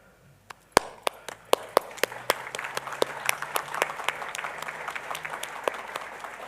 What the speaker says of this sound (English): Could my fellow graduates please stand and applaud to show your appreciation?